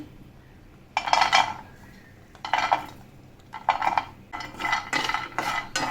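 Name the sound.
almonds, cashews and walnuts being roasted in a pan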